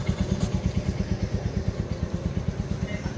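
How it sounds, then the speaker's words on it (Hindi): A motorcycle idles close by, ready to set off on a road trip from Delhi to Bir, its engine thumping in a quick, even, low putter with a faint mechanical clatter. "तो बाइक जो है तैयार है, यहाँ से ready and set to go"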